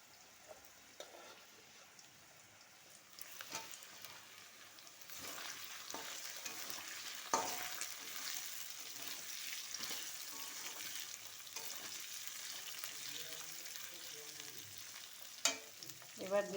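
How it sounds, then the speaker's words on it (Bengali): Chopped pointed gourd frying in a pan for sago khichdi, a quiet start giving way to a steady sizzle with intermittent stirring scrapes and occasional sharp clinks of a spatula against the pan. "একটু ভাজা ভাজা করে নেব। এবার দিয়ে দেবো কুচিয়ে রাখা"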